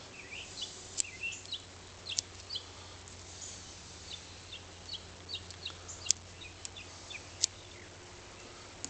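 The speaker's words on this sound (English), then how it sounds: "As the birds serenade us." Early-morning outdoor birdsong with chicken-like calls and chirps, scattered sharp notes over a low steady background hum, moderately distant.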